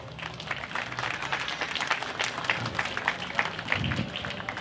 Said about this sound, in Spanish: te quiero pedir un favorcito, un aplausito para realizarte mis monólogos